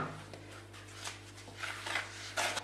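Masa, salt and baking powder mixed together in a bowl, giving soft scraping and rubbing strokes with a few brighter clinks of utensil against the bowl, close by and fairly quiet over a low steady hum.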